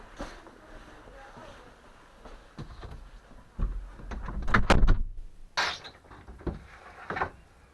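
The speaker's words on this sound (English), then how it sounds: "I'm pretty sure the opening door thing is getting a little bit old by now" A door opens on a cold, rainy day, with a couple of soft knocks, then a loud rattling clunk and scrape of the latch and door, followed by a few quieter bumps.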